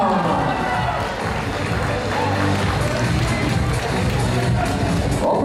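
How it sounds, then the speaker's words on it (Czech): Big applause from an audience at a live performance, dense continuous clapping mixed with crowd noise and some cheering, with talk running over it. "Obrovský potlesk"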